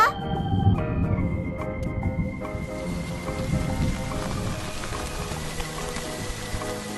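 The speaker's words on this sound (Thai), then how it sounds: "พูดไม่ทันไรฝนตกพอดีเลย" Rain pours steadily with a low rolling rumble of thunder underneath, a continuous wash of sound with no voices.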